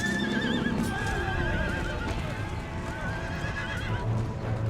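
Horses whinny and neigh repeatedly in a Napoleonic-era battle in Empire: Total War, their wavering cries rising over clip-clop hoofbeats and gunfire-like cracks, fairly close and mixed into busy battlefield noise.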